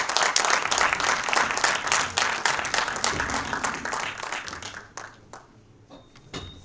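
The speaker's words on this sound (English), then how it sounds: "Let's welcome them all with a huge round of applause" An audience at a faculty development program bursts into applause as guests are welcomed onto the stage, dense clapping that gradually thins and fades out, leaving a few scattered claps near the end.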